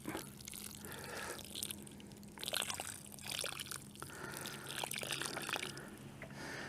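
Water from a jug pours and trickles outdoors to rinse hands, a faint, uneven splashing and dribbling that rises and falls in short surges with no talking.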